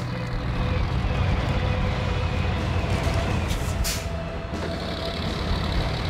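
Heavy KOLOB 74760 truck engine in the SnowRunner video game, a steady loud low rumble running throughout with a faint hiss, alone without talk.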